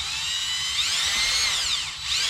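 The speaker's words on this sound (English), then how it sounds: "Just pre-drill it." A power drill pre-drills a hole in the plastic of a skeleton bird prop, a close, loud high-pitched whine that rises and falls in speed, dipping briefly near the end before spinning up again.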